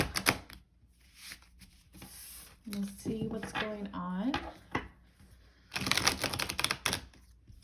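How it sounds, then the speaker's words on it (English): Tarot cards are shuffled by hand in short, crisp bursts of riffling and slapping, heard close up and in separate spurts, while someone speaks briefly between them. "So I'm shuffling right now."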